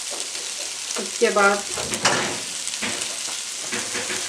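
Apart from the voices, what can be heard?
frying in a pan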